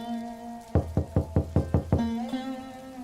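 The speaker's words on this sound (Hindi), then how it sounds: "अरे, इस वक्त दरवाजे पर कौन खटखटा रहा है?" Knocking on a wooden house door at night: a quick run of about seven firm knocks, close and distinct, set against a sustained tonal hum before and after.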